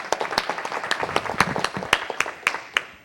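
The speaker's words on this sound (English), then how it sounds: "give Mom a round of applause," A small audience at a council meeting gives a brief round of applause, a few distinct, fairly close hand claps ringing out in a loose rhythm over a softer patter of clapping.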